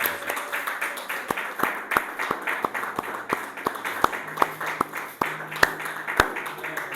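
Church congregation clapping in a steady, even rhythm during worship, with the claps sharp and close over a soft murmur of voices and faint music.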